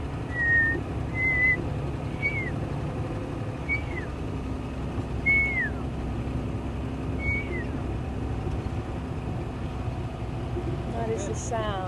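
A person whistles an imitation of a pearl-spotted owlet call, a series of short, rising and falling notes, spaced a second or two apart, over a steady low background hum.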